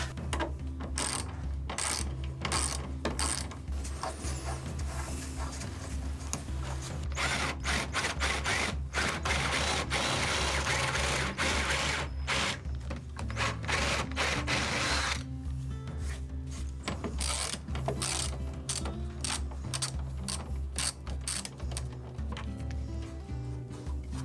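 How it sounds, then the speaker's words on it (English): A drill with a spade bit bores recesses into wood pieces during a farm rebuild, a loud continuous whirring grind broken by brief stops, restarts and rattling clicks, close and with no talking. "to create a recess with this spade bit over here"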